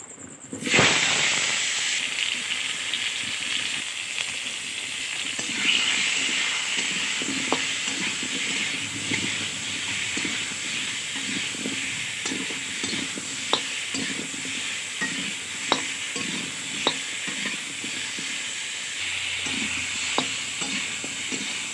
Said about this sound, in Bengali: ওখানে কড়াইতে তেলটা দিয়ে এখানে আলুটা ভেজে নেবো